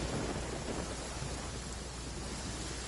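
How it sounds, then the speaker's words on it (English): Steady, dense rain sounds with a low storm rumble pour throughout the video game Genshin Impact, broad and constant with no voices. "the raining and the storm is part of the story at this point"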